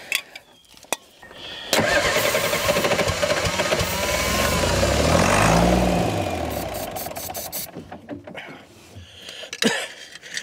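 An old excavator found in a swamp cranks over and its engine catches, a rising labored roar that swells for several seconds, then fades, with clicks and knocks before and after.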